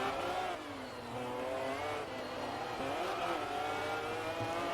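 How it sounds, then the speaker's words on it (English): Several racing car engines in a driving video game whine and roar together at high revs, pitch rising and falling steadily, a continuous dense drone with no voices. "These cars are loud, though."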